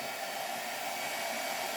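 A steady, loud hair dryer blowing continuously with an even whooshing roar and no pauses.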